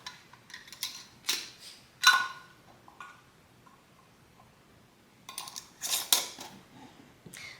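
Sharp metallic clinks and clatters of lids being set onto glass canning jars of Texas chili, coming in irregular bursts with quiet gaps between them.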